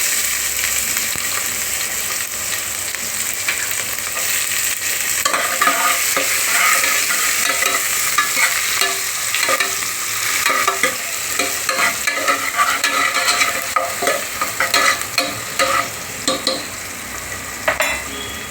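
Onion fries with bay leaf, cardamom, cinnamon, cloves and black pepper in a cooker for veg biryani, giving a loud, continuous sizzle with close scraping stir strokes growing busier partway through.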